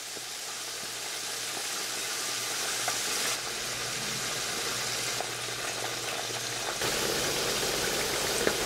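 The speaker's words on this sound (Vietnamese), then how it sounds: "Đợi cho dầu nóng thì mình cho cá vào chiên." Mackerel scad fish fry in hot oil over medium heat, a steady close sizzle with faint crackles and pops that swells slightly in places.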